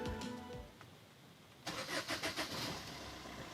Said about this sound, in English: Now let's start the vehicle.